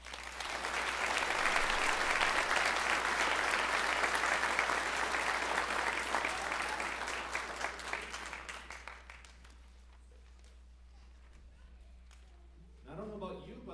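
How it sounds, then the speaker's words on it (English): A crowd at a school winter band concert applauds loudly and steadily for several seconds, then the clapping thins out and fades, with a voice starting up at the end. "Let's give them a round of applause."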